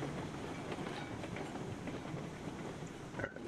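A train rolls steadily over the rails in the railway game Railroads Online, giving a continuous rumbling run with a faint clatter. There is no speech.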